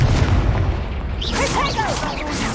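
A booming Confringo explosion spell from Hogwarts Legacy bursts loudly with low rumble, followed by swooshing, chirping magical effects that trail off over a couple of seconds.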